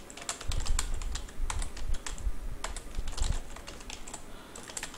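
Java code is typed on a computer keyboard in rapid, uneven runs of close keystrokes with brief gaps, moderately loud and without speech.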